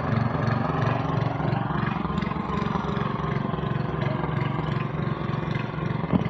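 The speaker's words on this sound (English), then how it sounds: "We got a mower working now." A repaired old lawn mower engine runs at a steady, close, buzzing drone with an even rhythm and no talking over it.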